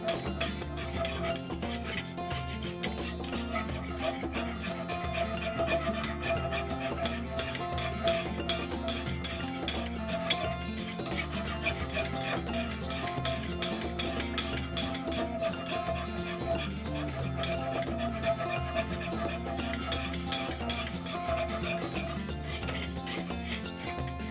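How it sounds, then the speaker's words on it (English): A spoon scrapes and rubs steadily around a pot of Cajun gumbo, a continuous close rasping stir that runs unbroken with no talk. "And I'm still stirring."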